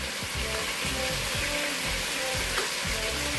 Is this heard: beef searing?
yes